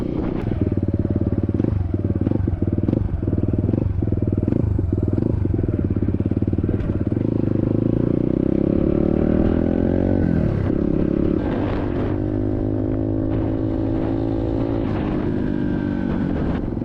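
An SSR 150cc dirt bike engine revs hard through its gears on a top speed run, loud and close, each upshift dropping the pitch before it climbs again.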